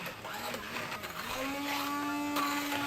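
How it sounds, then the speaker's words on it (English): An electric blender whirs steadily as it purées fried onions into a thick gravy for Sindhi daag, its motor pitch rising and holding as the blades spin, with no voices. "We are going to blend the onion and make it into a gravy."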